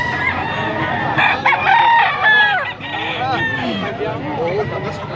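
Stag gamecock crowing in a busy rooster market, with other chickens clucking and crowing around it and people talking in the background.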